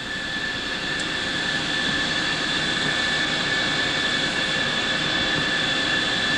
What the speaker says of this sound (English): But normal engine runs, our advancements and decelerations are a little bit slower.